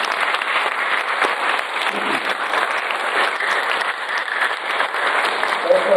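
At a Boy Scouts Court of Honor, an indoor audience applauds steadily for the Scoutmaster and Assistant Scoutmasters, many hands clapping evenly throughout with a faint murmur of voices beneath.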